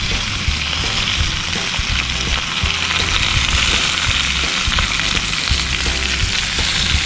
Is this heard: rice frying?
yes